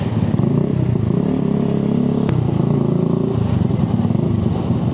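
A Benelli Motobi Evo 200 motorcycle being ridden toward the Tanay Highlands gives a steady, close, loud engine drone with a constant low hum throughout, broken only by a single sharp click midway.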